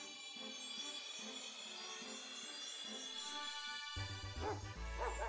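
Fidough, the puppy Pokémon from Pokémon Scarlet and Violet, gives a short electronic yipping, whimpering cry over game music, bright tonal barks rising near the end.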